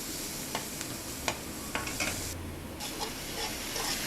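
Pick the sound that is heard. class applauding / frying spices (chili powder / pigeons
frying spices (chili powder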